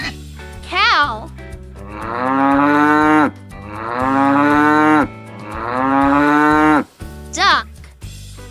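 A cow moos three times, each call long, deep and drawn out with pauses between, loud and near over soft background music, with short rising squeaks at the start and end.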